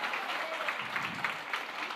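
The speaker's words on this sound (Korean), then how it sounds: "박수 한번 쳐주니까 할렐루야." Church congregation applauding during a Sunday morning worship service, a steady wash of many hands clapping at moderate level, fairly distant and continuous for the whole moment with no voices on top.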